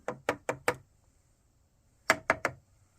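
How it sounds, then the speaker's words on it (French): Two quick bursts of light tapping on a box holding an Asian hornet nest among beehives, four knocks then three, close and crisp, with a short quiet gap between the groups. "On va d'ailleurs s'en assurer en tapotant légèrement."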